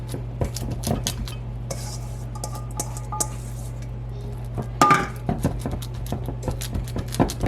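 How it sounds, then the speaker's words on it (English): A meat mixture for a meatloaf is scraped and pressed into a pan, with a run of close clinks and taps of utensil on cookware over a steady hum. "We're going to put this into a"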